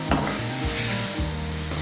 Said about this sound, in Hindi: मैंने नमक ऐड किया है, तो अच्छी तरह से मैं मिक्स करूँगी।